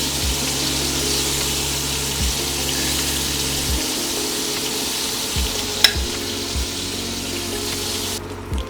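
Beef sears in a big stew pot with a steady, moderate hiss, a low hum beneath it, and a single sharp clack partway through.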